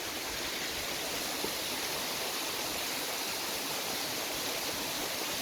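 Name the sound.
waterfall with little water flowing into a jungle pool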